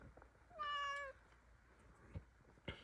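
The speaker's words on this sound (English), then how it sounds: "This is my cat, and she doesn't know how to jump down." A pet cat stuck in a window gives one clear, close meow, followed by faint scattered thumps and rustles in a quiet room.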